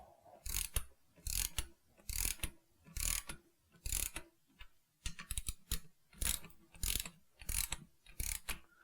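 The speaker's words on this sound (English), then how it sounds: "Now we're going to snug those down, and these will be torqued in a proper sequence" Ratchet snugging down engine main bearing stud nuts on an AeroVee engine case, about a dozen crisp clicking bursts in a steady rhythm with a short pause midway, close and clear.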